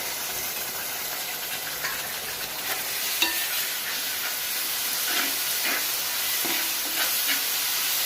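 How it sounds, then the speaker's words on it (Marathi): Onion and ginger-garlic paste fry in a pan for a chicken dum biryani, making a constant bright hiss and sizzle with a few soft stirring scrapes. No one speaks. "कांदा झालाय परतून इथे आपण आले लसूणची पेस्ट टाकूया"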